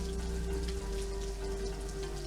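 Steady heavy rain pours down in a dense, continuous hiss, loud and close throughout with no voices.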